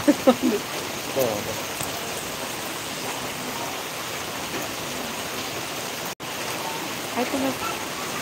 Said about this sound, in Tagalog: It's raining here all. Look. Raining.